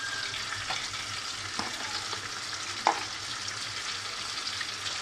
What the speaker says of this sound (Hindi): पाँच मिनट भूनने इसे